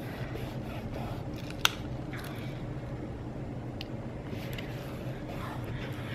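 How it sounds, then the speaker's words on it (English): A single quick snip of scissors cutting glitter washi tape stands out against a quiet room background, with a few faint rustles around it. "you actually have to cut it with a scissors"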